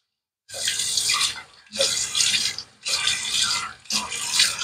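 Hot water runs from a tap into a sink in four bursts, each roughly a second long and separated by brief silences, loud and close with splashing hiss.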